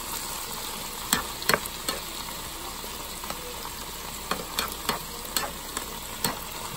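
Vegetables stir-frying in a pan over high heat, a continuous close sizzle broken by sharp irregular clanks and scrapes of the spatula tossing them, with no voices.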